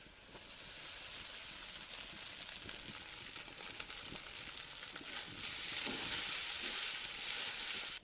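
Chicken pieces sizzle steadily in a pan over onions already fried brown, a dense, continuous frying hiss that swells a little louder toward the end, with occasional stirring scrapes and no voices.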